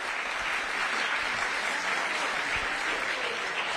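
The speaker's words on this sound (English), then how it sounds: "please give them a round of applause as they are coming up" Audience applause at a town hall fills the room steadily, a dense, even wash of clapping from a crowd welcoming a mayor and a congressman to the stage.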